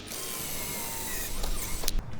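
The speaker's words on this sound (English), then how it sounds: "So get your drill on high speed for wood." A power drill spins at high speed boring pocket holes in wood, a continuous loud whir with a few harsher bursts toward the end, with no talk.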